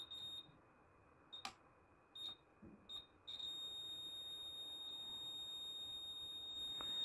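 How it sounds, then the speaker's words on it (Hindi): A steady high electronic beep from a multimeter continuity test on the drum coil of an LED driver under repair, preceded by a few short intermittent beeps, then holding as one continuous tone, close and fairly clear. "आपको इसमें बीप की आवाज़ आ रही है"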